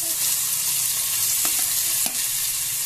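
Onion fries in hot oil in a pan for dry prawns, a steady close sizzling hiss with a couple of faint clicks from stirring, continuous and even with no speech.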